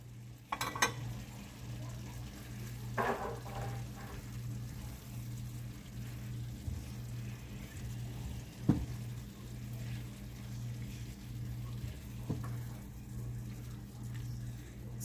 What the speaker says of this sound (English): And stir it around really, really good. Let the seasoning get mixed up in there.